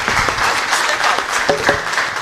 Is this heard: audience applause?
yes